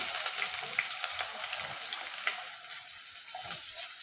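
Onions fry with spices in hot oil for a beef gravy, a close, continuous sizzle with occasional stirring scrapes and no talking.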